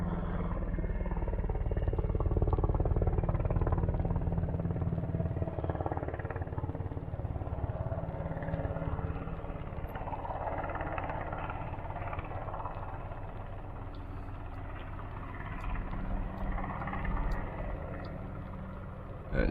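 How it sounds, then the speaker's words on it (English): An armed helicopter gunship flying overhead at a bike-packing camp, a steady low rumbling drone that fills the whole stretch at moderate loudness, swelling slightly early on and fading a little toward the end. "Fucking gunship."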